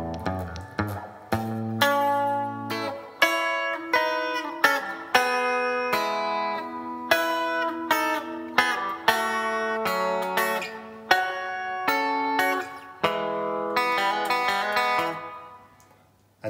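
Electric guitar notes from a song are picked slowly one after another, each ringing clearly in a steady, unhurried pattern, with no other instruments or voices.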